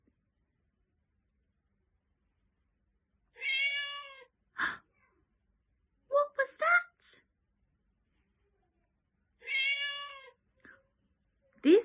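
A cat meows twice, each a clear, fairly close cry several seconds apart, with short bits of human speech in the quiet gaps between them.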